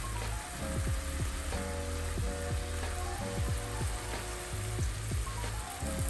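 Shrimp in garlic butter fries in a pan with a steady, dense sizzle and frequent small pops and crackles, close and even throughout, with no one speaking.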